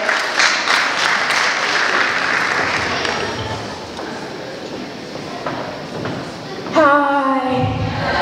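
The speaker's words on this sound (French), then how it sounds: "Applaudissons s'il vous plaît" Audience clapping fills a gathering in Ukraine, a loud continuous patter for several seconds that thins out, before a voice begins speaking near the end.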